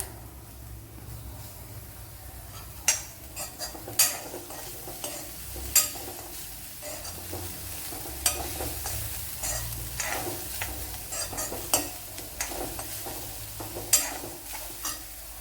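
Grated coconut fries softly in a pan for a curry, a quiet sizzle broken by a spoon's sharp clicks and scrapes against the pan at irregular intervals.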